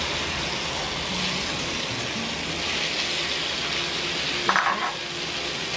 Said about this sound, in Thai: จะเทไข่ลงไปตอนนี้เรารอให้น้ำมันร้อนจัดก่อนนะคะ